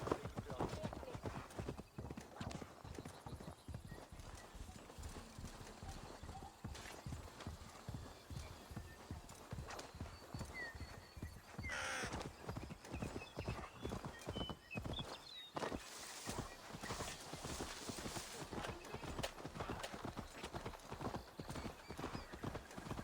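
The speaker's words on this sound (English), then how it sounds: "Hey, it's horses, watch out!" Rapid hoofbeats clatter continuously as horses gallop in a video game, with a horse whinnying partway through and voices talking over the drumming hooves.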